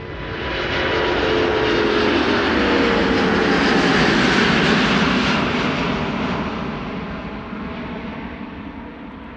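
A Finnair airliner departing Amsterdam Schiphol for Helsinki, its broad jet engine roar rising quickly, holding loud through the middle, then slowly receding into the distance, heard alone without voices.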